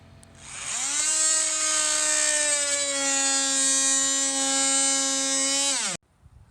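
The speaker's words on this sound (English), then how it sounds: "I'm going to take this multi-tool and cut it off right at a good place" An oscillating multi-tool cuts through rotten exterior wood trim near a nail, giving a loud, steady high-pitched buzzing whine that holds for about six seconds, then stops abruptly.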